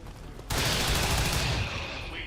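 Video game gunfire breaks in abruptly after a short quiet moment, becoming a loud, sustained burst of rapid shots that carries on to the end without pause.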